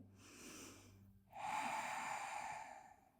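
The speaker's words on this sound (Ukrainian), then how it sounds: "Дихаємо дихання оджаї." Ujjayi breathing during a yoga session, one slow breath in and one longer breath out with a soft throaty hiss, close to the microphone and without speech.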